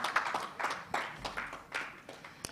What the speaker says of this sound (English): Can we get another round of applause for David?